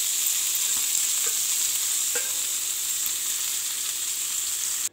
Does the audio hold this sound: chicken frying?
yes